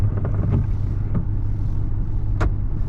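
A four-wheel drive vehicle rumbles along through snow with a steady low engine drone up close, broken by a few soft thumps and bumps.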